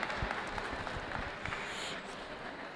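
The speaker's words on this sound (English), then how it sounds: "big round of applause for Hyler." An audience applauds after a local arts and culture presentation, a dense, steady patter of clapping heard fairly faint and distant, lasting a few seconds.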